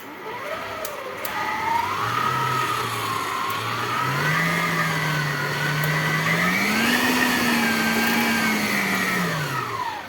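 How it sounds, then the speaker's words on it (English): An electric hand mixer beats egg whites for tiramisu at high speed, a steady close motor whine whose pitch rises and falls as the beaters work through the mixture, running without pause. "mix it with the mixer"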